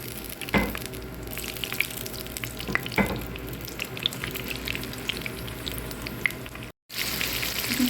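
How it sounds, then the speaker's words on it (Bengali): Hilsa fish coated in turmeric and chili powder frying in oil in a frying pan, a steady close sizzle and crackle with a few sharp pops and brief clatters, running for several seconds. "এখানে একটা ফ্রাই প্যানে তেল নিয়ে নিয়েছি। এখন মাছগুলো ভেজে নেব।"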